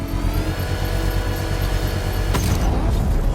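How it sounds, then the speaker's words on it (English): A controlled bomb explosion goes off in Batman: Arkham Knight: a loud low engine-like rumble with a tonal whine builds, then a sudden booming blast hits near the end and rolls on heavily. "I can use the power winch to trigger a controlled explosion."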